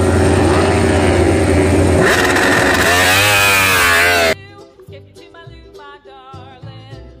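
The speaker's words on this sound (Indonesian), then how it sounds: "Yang ini namanya sepeda motor GP, teman-teman. Sepeda balap" A toy GP racing motorcycle gives a loud, continuous buzzing engine whine that rises in pitch as it revs, then cuts off abruptly and gives way to quieter clattering toy sounds.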